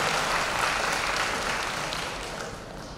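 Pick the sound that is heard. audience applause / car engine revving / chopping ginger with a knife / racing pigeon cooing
audience applause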